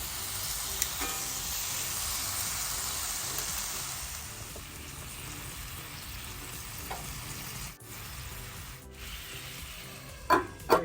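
Papaya vegan salmon sizzles steadily on a grill pan, a dense close frying hiss throughout with a few soft clinks of a utensil near the end.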